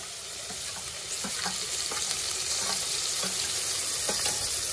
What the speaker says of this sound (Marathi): तर मी आता घालते याच्यात टोमॅटो